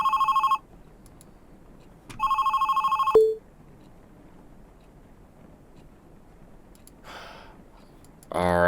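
A telephone rings in two loud electronic bursts, then a short tone follows. A quieter room hush carries on between the rings, and a brief voice or rustle comes near the end.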